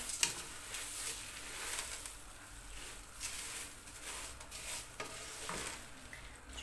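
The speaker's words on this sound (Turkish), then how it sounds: "Kavurma da aynı pilavların içine şehriyeyi kavuruyoruz ya. Aynı öyle kavuracağım." Vermicelli noodles toast in butter in a pan, giving a faint, soft sizzle under irregular stirring scrapes and light taps of a utensil.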